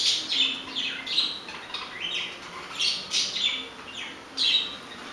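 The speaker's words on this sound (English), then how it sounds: "Yes, you're watching the birds." Birds outdoors chirp and squawk in a run of bright, high calls coming in repeated bursts every second or so, fairly close and fairly loud against a quiet backdrop, with no talking.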